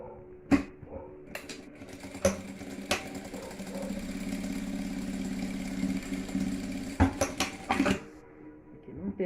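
A domestic sewing machine runs steadily for several seconds, stitching a seam on a round fabric cosmetic case, with sharp clicks and handling knocks before and after the motor hum.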